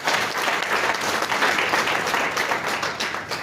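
Sustained applause from a large audience at a government launch event for One Health bodies, dense and steady throughout at close range.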